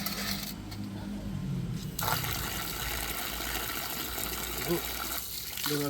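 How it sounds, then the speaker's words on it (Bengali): Water splashes and trickles steadily over raw chicken meat being washed for a biryani and chicken chaap feast, with a running, dribbling flow throughout and voices murmuring in the background. "লাস্টে সোনুই এগোলো মাংস ধুতে"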